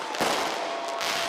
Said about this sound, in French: Depuis quelques semaines, les fumigènes et les feux d'artifice illégaux s'accumulent à Montréal.